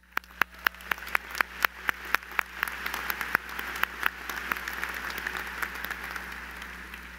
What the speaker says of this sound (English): Y'all deserve a round of applause.